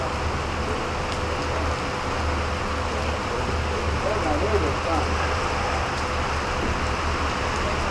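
Steady rain falls during an outdoor deluge, a continuous hiss under a low rumble, with people talking over it.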